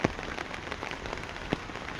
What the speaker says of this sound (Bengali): বৃষ্টি পড়ার যে আওয়াজটা হয়, ওই আওয়াজটা বেশ সুন্দরই লাগে